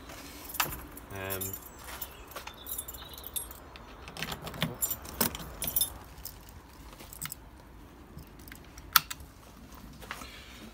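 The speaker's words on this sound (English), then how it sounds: "Grab the keys." Keys jangle when picked up in a home workshop, a quick metallic rattle near the start followed by scattered clinks, handling knocks and light footsteps.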